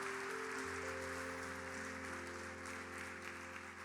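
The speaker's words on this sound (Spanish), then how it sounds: "Dale un fuerte aplauso al Señor." Church congregation applauding during a sermon, a steady wash of clapping layered over sustained organ or keyboard chords, continuous and moderately loud with no talk.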